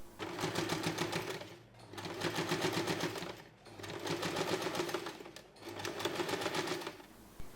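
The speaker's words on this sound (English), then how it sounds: "sew close to the edge to close the opening in the lining" A sewing machine runs in four steady bursts of continuous stitching with brief pauses between, sewing close to the edge to close the lining opening of a fabric zipper pouch organizer.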